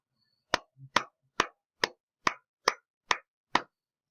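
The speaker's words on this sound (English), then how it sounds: "if I were to clap it without speaking" Eight crisp hand claps land at an even, steady pulse, a pair of eighth notes to each beat, close and alone in a quiet room with a faint low thump between the first two.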